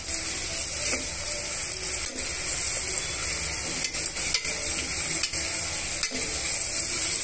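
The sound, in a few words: onion and green chilli pieces frying in a pan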